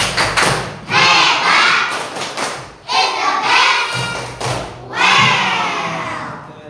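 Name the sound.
class doing the 'tepuk hebat' clap chant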